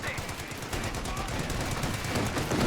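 A .50 cal heavy machine gun fires in a strategy video game, giving rapid, continuous bursts of gunfire over dense battle noise at moderate volume.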